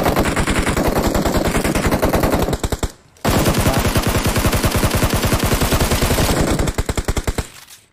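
Video game gunfire in long, rapid automatic bursts, a dense loud stream of shots that stops briefly for a moment, then resumes and tails off near the end.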